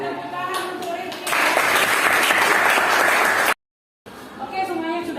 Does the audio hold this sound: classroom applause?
yes